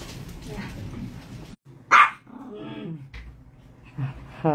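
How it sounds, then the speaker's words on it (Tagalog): A dog barks nearby on a street, with a sharp single bark followed by whimpering yips, while someone talks around it. "It's a dog."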